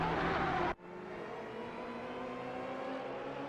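Race car engines from an Aston Martin AMR1 and Porsche 962C in a racing video game: a loud close engine drone cuts off abruptly, then a steadier, quieter whirring engine tone continues.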